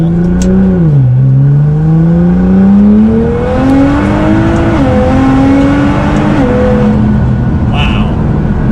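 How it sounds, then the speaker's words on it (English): An all-wheel-drive, twin-turbo Toyota Supra accelerates on a dusty dirt road, its engine note climbing through several gear changes with a loud, close rising drone. "This car being all-wheel drive, a little bit heavier, completely different thing, bigger engine, 2 turbos."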